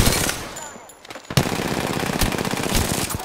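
Automatic gunfire in the video game Apex Legends: a loud stream of rapid shots, a brief lull, then dense sustained firing resumes close up.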